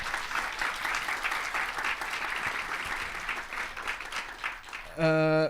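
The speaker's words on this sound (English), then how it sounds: "Big round of applause to our volunteers" A conference audience applauds volunteers in a sustained, even burst, fairly quiet, followed at the end by a short electronic tone.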